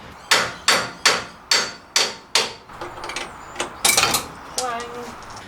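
Sharp, evenly spaced hammer blows ring out on the top ball joint of a Ford Ranger's front suspension, six loud strikes in a row, then lighter, irregular taps and clinks.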